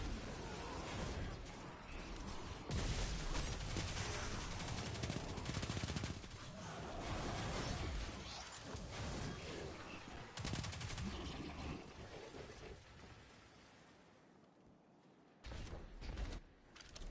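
Sustained rapid gunfire from the Destiny 2 video game, loud and dense bursts filling nearly the whole stretch, briefly dropping away near the end before resuming.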